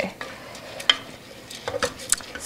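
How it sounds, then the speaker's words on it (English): Risotto rice sizzles softly in a hot pan while being stirred, a low crackling hiss with scattered scraping clicks of a utensil against the pan. "Anytime you hear that sizzle, it's like, I was hot."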